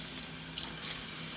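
Warm tap water runs steadily from a kitchen faucet as a baby bottle is filled, a continuous close hiss and splash with no voices.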